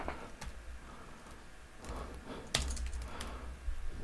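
Keystrokes tap on a computer keyboard in short irregular bursts, close and fairly quiet, with a sharper click near the middle and no talking.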